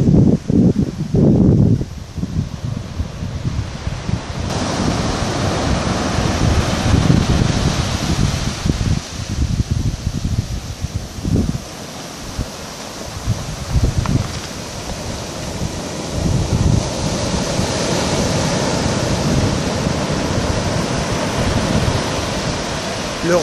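Indian Ocean surf rushes and washes steadily against the south jetty of Port Ouest, Réunion, with broad hissing swells rising and falling amid wind buffeting the microphone.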